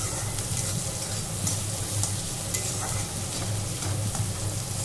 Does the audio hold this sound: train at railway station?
no